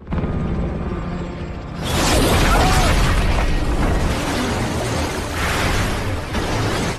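A faint rumbling hum, then a sudden loud bazooka blast bursting into a sustained roaring explosion with crackling debris that rolls on for several seconds.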